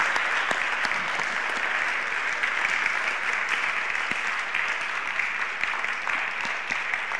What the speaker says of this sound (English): give you an applause and say thank you for your service